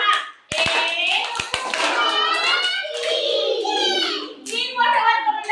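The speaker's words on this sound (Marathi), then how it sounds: "आता 3 टाळ्या वाजवायच्यात आपल्याला" A few sharp hand claps ring out early in a counting lesson for young children, followed by children's voices chanting and talking.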